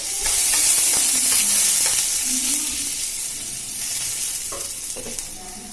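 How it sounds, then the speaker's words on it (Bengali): Chopped potato frying in hot oil with whole cumin seeds and chopped ginger, a loud, close, continuous hissing sizzle that eases slightly, with a few light stirring scrapes toward the end. "আমি আলু কুচিটা ভালো করে ভেজে নেব।"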